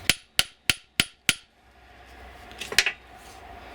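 Five sharp metal hammer strikes ring out at an even pace as a restored Soviet fitter's hammer head from Volgograd is driven onto its handle, followed by a softer clatter and scrape.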